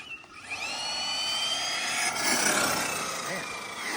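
An Arrma Mojave RC car motor running on 4-cell emits a rising, supercharger-like high whine that holds steady and loud for several seconds, with a faint rumble underneath.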